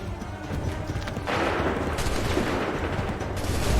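Musket volley fire from the video game Assassin's Creed 3, a dense rolling crackle of many shots that swells louder midway and keeps rumbling steadily to the end, with no clear pauses.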